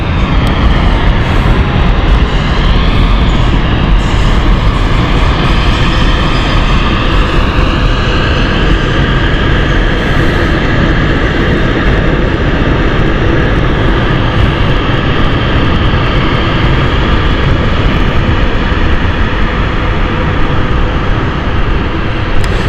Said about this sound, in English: Inbound next is the Dusseldorf flight from City Flyer.